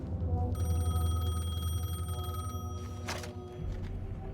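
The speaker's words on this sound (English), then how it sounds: "The payphone was ringing." A payphone ringing in the video game Alan Wake II, an electronic bell trilling in a steady buzzing tone over a low ambient hum, cutting off briefly before a low rumble returns.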